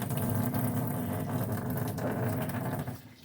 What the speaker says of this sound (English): You just want to rinse all of that soapy water and dirt and gunk and anything that we can get out of there